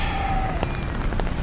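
Rain pours onto a night street in Manila, a dense, steady patter with scattered sharper drops, loud and close, and a thin tonal whine fading in the background.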